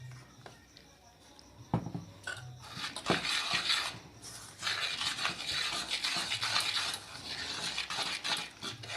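Biscuit cake mixture is stirred with milk added bit by bit, a utensil scraping and clinking against a bowl in busy, rhythmic strokes close up, steady and moderately loud.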